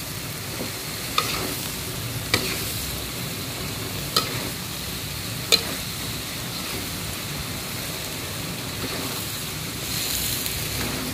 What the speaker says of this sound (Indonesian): Oke, aku aduk-aduk lagi ya